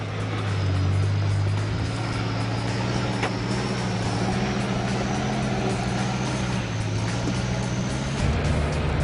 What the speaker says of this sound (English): Did you hear that lovely turbo whistle back there?